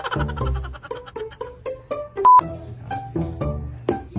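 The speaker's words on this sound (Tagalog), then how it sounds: "Nahala, sige, tatawagan ko muna si Mama Lola" Telephone keypad tones ring out one after another in a quick, uneven series of short beeps, close and clear, as a call is dialed on a phone at home, with no talking over them.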